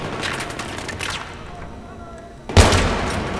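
Gunfire in Battlefield 3, with scattered shots early on, then a sudden loud burst near the end that keeps ringing out over the noise of battle.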